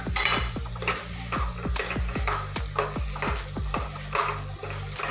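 Spiced boiled potatoes stirred and sautéed in a pan, a spoon scraping and tapping the pan in a quick, repeated rhythm over a soft sizzle.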